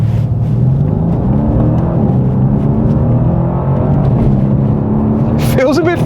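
A Stage 1 tuned Mercedes C63s AMG in race mode rumbles loud and close with a deep, continuous engine and exhaust drone, and a voice speaks briefly near the end.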